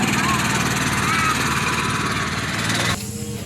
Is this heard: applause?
no